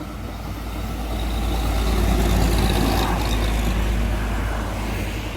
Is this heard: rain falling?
no